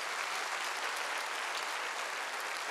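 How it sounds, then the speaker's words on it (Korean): Church congregation at a Wednesday worship service claps in a dense, steady burst of applause, loud and unbroken throughout. "빨리 박수로 하나님께요"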